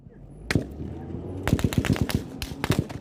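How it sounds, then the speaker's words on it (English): Gunfire during a deadly attack on an ambulance, sharp broadband cracks: one shot early, then a rapid burst of automatic fire with several closely spaced reports, loud and echoing over a low rumble. "We hear continuous single shots. Then automatic fire."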